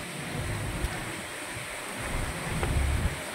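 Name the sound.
strong wind at a beach resort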